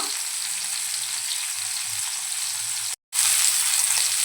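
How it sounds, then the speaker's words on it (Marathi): Rava-coated bombil (Bombay duck) fries Malvani style in a pan with oil added at the side, giving a loud, continuous crackling sizzle close up, broken once by a brief silent gap. "आता दोन मिनटं आपण एका साईडनं फ्राय करून घेऊया"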